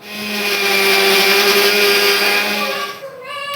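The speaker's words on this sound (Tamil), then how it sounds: "மிக்ஸியில் போட்டு நல்லா ஃபைன் பேஸ்ட்டாக அரைச்சிக்கலாம்." A mixer grinder whirs loudly and steadily for about three seconds while grinding urad dal batter into a fine paste, then cuts off abruptly.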